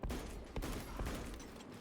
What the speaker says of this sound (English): Oh, I can shoot my gun.